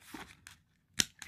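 Scissors cut material for a rustic farmhouse-style plant pot makeover: a few short, close snips and crunches separated by a brief quiet gap, with a sharp louder cut near the end.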